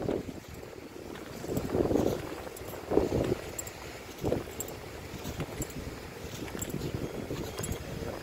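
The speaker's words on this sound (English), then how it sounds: "very windy" Gusty wind buffets an outdoor microphone, a continuous rumbling roar with stronger surges every second or so, fairly faint overall with no speech.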